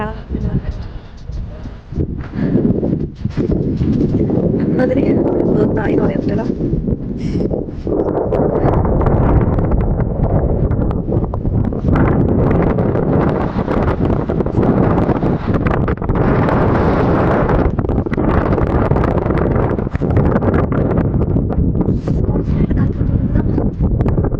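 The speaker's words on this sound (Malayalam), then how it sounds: "നല്ല കാറ്റുണ്ടായിരുന്നു." Strong mountain wind roars steadily into the microphone on a trek, a dense buffeting rumble that persists throughout with gusty rises and falls.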